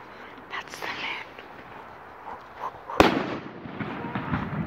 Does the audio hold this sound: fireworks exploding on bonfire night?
yes